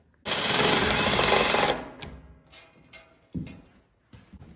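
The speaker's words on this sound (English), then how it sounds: "Putting the final screws in." A screw gun drives screws while a wood stove and its chimney are installed on a hearth in a log cabin, one long loud whirring burst followed by shorter fainter bursts and clicks.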